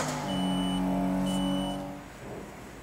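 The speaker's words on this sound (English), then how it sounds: "so I'll turn the car on." A 2008 Roadster powering on gives a short series of electronic beeps and chime tones over a steady low hum, close and clear, fading out after about two seconds.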